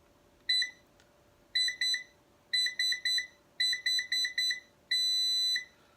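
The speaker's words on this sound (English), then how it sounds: "Hear the different sequences: 1 beep, 2 beep, 3 beep," Electronic beeps from a Nokta Makro Pulse Dive pinpointer run through sequences of one, two, three and four short tones, each group separated by pauses, ending in one long steady tone, clear and close with no talking.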